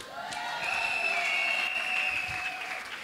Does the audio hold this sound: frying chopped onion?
no